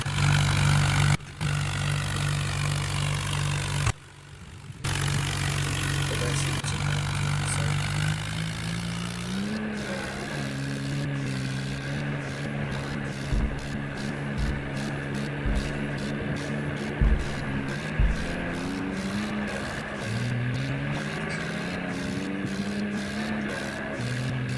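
A tractor engine runs steadily and close by, a deep continuous drone whose pitch climbs and lifts as it revs partway through. It plays alone, with no talking over it.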